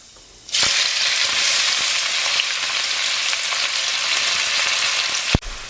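Cumin seeds, crushed ginger, garlic and green chili hit hot oil with a sudden loud sizzle that crackles steadily, then a clatter near the end.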